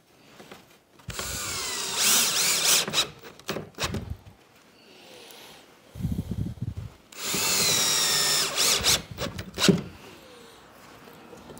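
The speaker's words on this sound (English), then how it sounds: "And then I'm going to do two screws in here." Power drill driving screws into wood while building a barn-style sliding door: two long, loud whirring runs with quieter handling and knocks between them.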